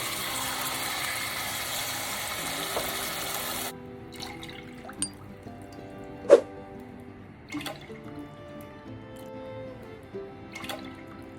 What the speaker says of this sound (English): In the same teacup, I am adding 4 cups of milk, full fat milk.